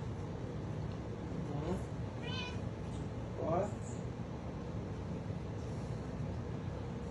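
A cat waiting for a treat gives two brief, faint meows over a low background hum.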